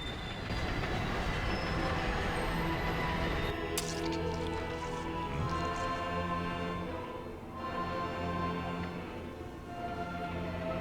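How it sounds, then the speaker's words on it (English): Rumbling train ride in the video game Resident Evil Zero, a steady loud mechanical drone with low hum and a brief metallic clatter partway through, continuous with no talking. "Nice little train ride."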